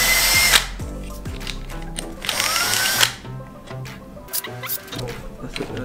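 A power drill drives a screw while a wall light switch is installed, with two loud whirring bursts near the start and midway, then quieter handling clicks and taps.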